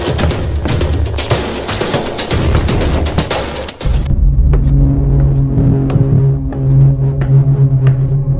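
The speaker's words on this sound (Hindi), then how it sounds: "सर बच के गोली चला रहे हैं लोग" Movie shootout with gunfire, rapid bursts of shots cracking over a loud rumbling mix that shifts partway through into a sustained droning tone with continued sharp reports.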